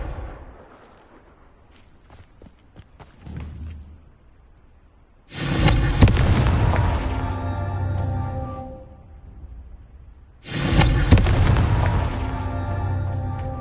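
Two Confringo blasting spell explosions in Hogwarts Legacy, each a sudden loud bang that rolls into a long, rumbling fiery roar, the pair spaced about five seconds apart after a quieter stretch of faint pops.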